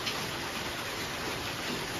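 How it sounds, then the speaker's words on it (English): Rain falling outside during a storm, a steady soft hiss of broadband noise at a fairly faint level, with no talking. "You can probably hear it picking up in the background again."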